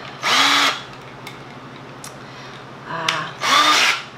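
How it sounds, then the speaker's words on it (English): A power drill fitted with a screwdriver bit drives a screw into wood at close range in two loud whirring bursts, separated by quieter handling clicks and a brief low spin-up. "switching over to my screwdriver bit"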